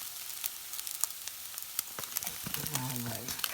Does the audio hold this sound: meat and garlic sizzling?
yes